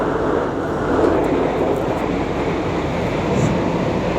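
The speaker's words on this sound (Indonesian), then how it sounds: "Sesaat lagi kereta api bandara akan berhenti sebentar di stasiun Gawok untuk pergantian jalur" Airport train running on rails between Purwosari and Klaten, a steady loud rumble and rolling roar heard from inside the carriage, continuous with no speech.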